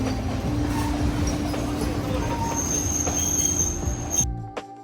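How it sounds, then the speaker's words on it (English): A train on the Kandy to Ella line rumbles in close to a platform with a steady low drone, screeching wheels and a high metallic squeal, then the noise cuts off abruptly near the end. "So as the train started to approach us"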